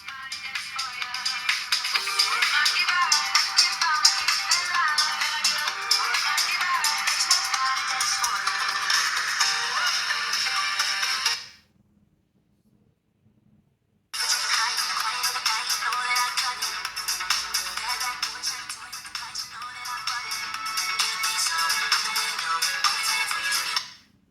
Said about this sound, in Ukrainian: При вхідному дзвінку годинник вібрує та грає мелодія.